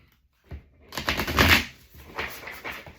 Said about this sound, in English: And let's do one final shuffle.